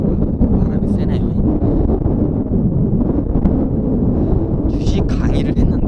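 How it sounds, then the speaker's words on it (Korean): Strong wind buffets an outdoor microphone, a loud continuous rumbling roar with gusty bursts that fills the whole stretch. "바람이 세네요."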